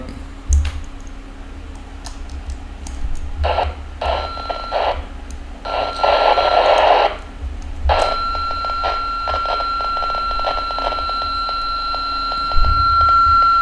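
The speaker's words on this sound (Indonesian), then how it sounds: "FC21R pakai antena luar, bunyi seismograf." A Foscom FC21R handheld dualband radio on an external antenna receiving a seismograph signal: intermittent bursts of electronic data noise and a steady whining tone over a low hum, with clicks and some background voice.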